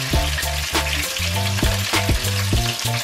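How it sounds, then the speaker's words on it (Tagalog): Soft-shell crab deep frying in hot oil, a loud, dense crackling sizzle with repeated sharp pops and spits throughout, close and steady with no voices. "Yung kanyang season kasi ngayon deep fry natin siya para maging crunchy siya."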